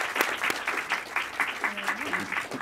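Audience applause for a panel at a film festival session, steady clapping across the whole stretch with a voice briefly rising beneath it near the end.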